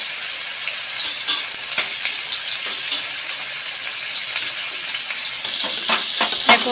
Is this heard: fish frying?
yes